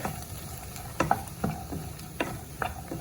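Dried Maldive fish dropped into a hot pan after the stove is switched off, giving a soft, low sizzle broken by several sharp clicks and scrapes of stirring, fairly quiet and with no talking.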